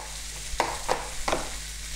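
Onion sliced into a pan of plenty of olive oil gives a faint steady sizzle, with three brief louder bursts of stirring or crackle over a low hum.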